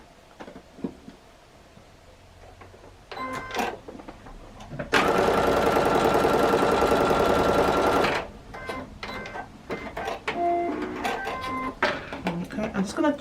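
Short bursts of a sewing machine stitching quilt block pieces, with one long steady run of fast stitching in the middle, close and clear, between quieter handling clicks and rustles.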